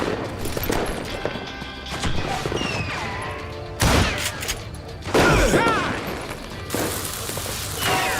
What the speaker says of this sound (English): I guess these things are older guns